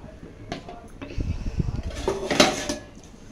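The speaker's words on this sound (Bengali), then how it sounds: "এটা আমি ঢাকা দিয়ে দিলাম।" A cooking pot in a home kitchen, holding potatoes simmering in water, gets its lid set on with a short, close metallic clatter and scrape, amid quiet kitchen handling.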